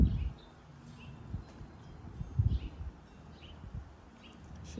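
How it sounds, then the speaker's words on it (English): A hawk calls outdoors in a windy backyard in Murrieta, several faint, thin, distant cries over steady wind noise and low rumbling. "She's hearing the hawk. Can you hear the hawk?"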